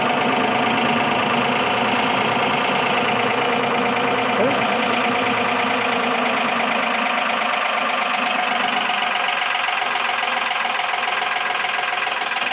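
A Mahindra 6075 Power Shuttle 4WD cab tractor with a loader runs steadily and loudly as its self-leveling bucket lifts, and the engine's drone holds constant throughout with no speech.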